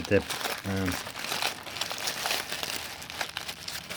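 Paper crinkles and rustles close to the microphone in soft, uneven bursts throughout, with a brief voice sound near the start.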